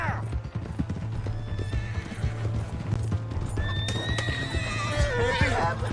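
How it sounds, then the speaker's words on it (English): Hoofbeats of a galloping horse in Red Dead Redemption 2 drum steadily and loudly throughout, joined near the end by a shrill, wavering neigh, with shouting voices briefly over the action. "Hey, that's my horse!"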